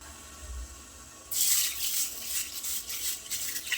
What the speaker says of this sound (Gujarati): સરસ રીતે મસળીને ધોઈ લઈશું એને.